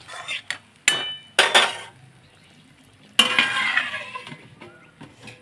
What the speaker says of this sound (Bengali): জলটা আমি দিয়ে দিলাম এবার আমি ঢাকা দিয়ে দেবো